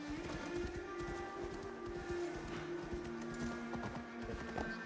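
Horse hooves clip-clopping steadily at a trot in Assassin's Creed Valhalla, a continuous rhythmic patter of many close hoofbeats over a droning background hum.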